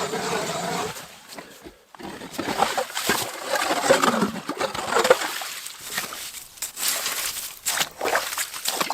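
Water being scooped and sloshed from a drilled hole in frozen lake ice while winter camping at -27°, with intermittent splashes and gurgles, close by and irregular, with no talking.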